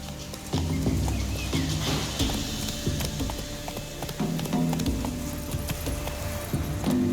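Roach, the horse in The Witcher 3 video game, gallops with rapid rhythmic hoofbeats, close and loud, with tack jingling over a steady outdoor bed, no talking.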